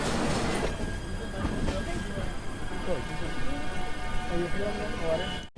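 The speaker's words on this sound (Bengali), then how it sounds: "একদম রাইট টাইমে আমাদের ট্রেন শিয়ালদা স্টেশন থেকে ছেড়ে দিল প্রায় আটটার সময়" Duronto Express pulling out of Sealdah station, a moderate rolling rumble with faint wheel squeal and rising track noise heard from inside the carriage, with voices murmuring underneath.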